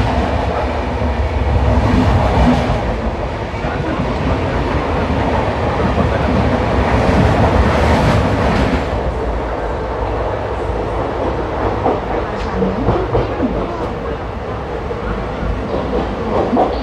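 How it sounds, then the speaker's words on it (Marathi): The Nagpur Duronto crossing past, heard from aboard the 22137 Prerna Express between Nagpur and Ajni: a loud, continuous rail roar with rattling wheel clatter that lasts throughout. "नागपूर दुरंतोचं क्रॉसिंग सुरू आहे."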